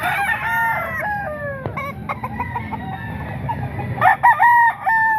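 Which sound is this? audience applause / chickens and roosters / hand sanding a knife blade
chickens and roosters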